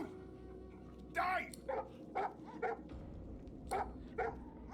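Dogs bark in Divinity Original Sin 2, in a crypt under Withermoore. Several sharp barks and yips come in separate bursts over a steady low game ambience, at moderate loudness with short gaps between them.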